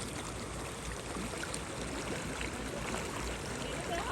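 A river rushes past its bank on a family trip from Balakot to Naran Kaghan, a steady broadband wash of flowing water that stays close and even throughout with no talk.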